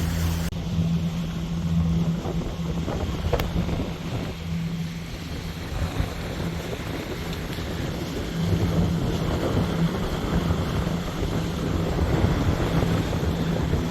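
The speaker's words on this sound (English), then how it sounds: "just flying on the jib with one engine running" A sailboat under way on its jib with one engine running, heading out from the Turkish coast: a steady low engine drone mixed with wind buffeting the microphone and water rushing past the hull, continuous and fairly loud throughout.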